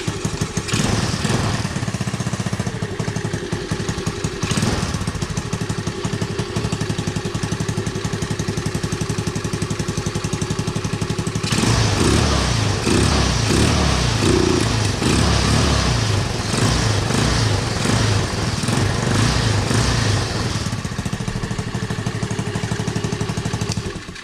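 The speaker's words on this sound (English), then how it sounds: "we'll get this navi fired up and just show you how it sounds with the stock exhaust" Honda Navi motorcycle engine with stock exhaust, pod filter and stock carburetor, running steadily and loud throughout, with a rougher, throatier stretch midway as it is revved before settling back to idle.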